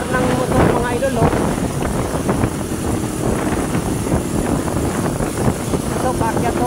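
A motorcycle engine drones steadily and loud throughout as it climbs uphill toward Antipolo, with rough wind buffeting the microphone as it labors along.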